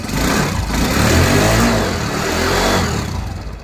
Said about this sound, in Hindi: अब एक्सीलेटर लेते हैं।